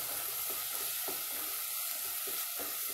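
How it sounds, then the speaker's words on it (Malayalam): Crushed ginger, garlic, shallots and green chillies sizzle in a pan while being stirred, a steady close frying hiss broken by soft periodic stirring scrapes, with no talk. "ചതച്ച് വെച്ചിട്ടുള്ള ഇഞ്ചി വെളുത്തുള്ളി ചെറിയ ഉള്ളി പച്ചമുളക് ആ കൂട്ട് ചേർത്ത് കൊടുക്കുക"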